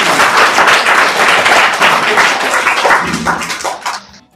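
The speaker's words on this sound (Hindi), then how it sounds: "जोरदार तालियां हो जाए भाई।" A studio audience at a Hindi quiz game show claps loudly and densely for several seconds, the applause thinning and fading out near the end.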